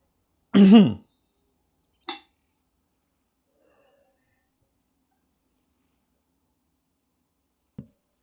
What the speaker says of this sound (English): Sorry, coughing a lot.